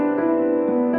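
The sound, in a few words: piano chord with added ninth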